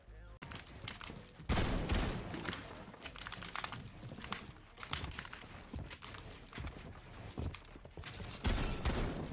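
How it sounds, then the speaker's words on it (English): A video game auto shotgun fires in rapid irregular bursts of loud blasts, dense and continuous through the stretch, with brief lulls between volleys. "No, not the auto shotgun."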